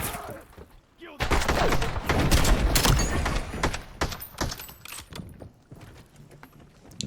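Rapid gunfire from a shotgun match in Call of Duty Black Ops 7 Search and Destroy, loud, dense bursts after a quiet start, then sharper scattered shots as the shooting thins out.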